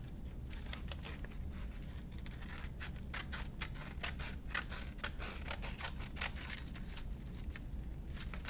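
Scissors snip through paper while cutting out a cat's head shape for a collage, a run of quick close crisp cuts with short pauses between them, no talking.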